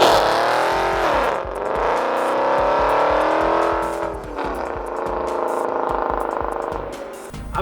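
A modified car with headers, full exhaust, intake, throttle body and a mild tune accelerating hard, the exhaust rising in pitch through one gear, dropping at a shift, then climbing again, loud and close.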